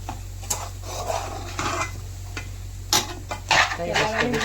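Onions fry brown in a pan while being stirred, with intermittent scraping and clinks of a utensil over a low, steady hum.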